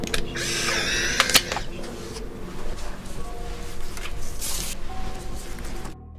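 A camera shutter clicks a few times in quick succession over a low room hum, crisp and close.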